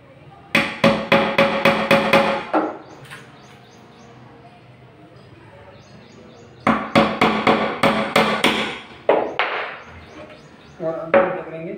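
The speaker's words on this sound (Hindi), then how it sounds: "यहाँ पे दूसरा थोड़ा हम किक कील मार लेंगे इस प्रकार से" Hammer driving nails into a plywood strip while building a shoe rack, in two bursts of rapid, evenly spaced blows, close and loud, with a few scattered taps and a quiet gap between the bursts.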